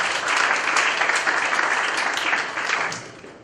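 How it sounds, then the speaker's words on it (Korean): Steady, dense applause from an audience, clapping continuously and tapering off near the end. "박수 한번 보내주세요"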